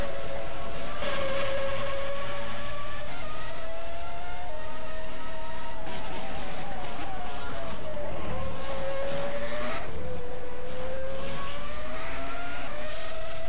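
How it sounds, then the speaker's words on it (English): A Formula 1 car in a racing video game held at top speed on a long straight, its engine a sustained high-pitched whine that shifts slightly in pitch with steady loudness throughout. "Top gear, quickly topping out at 184 miles an hour down that long straight"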